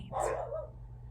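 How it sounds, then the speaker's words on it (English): A single sharp dog bark sounds close by, followed by a brief fading tail. "I'm not even sure what they're barking at."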